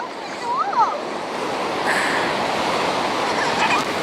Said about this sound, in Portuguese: É o mar.